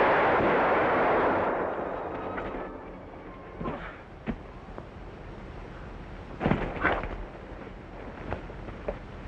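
A gunshot in a 1945 western film scene: a loud sustained blast rolls off at the start, followed by scattered sharp cracks and thumps against a noisy background, with no speech.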